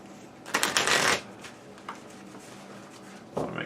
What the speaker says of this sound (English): I'm going to be shuffling this several times.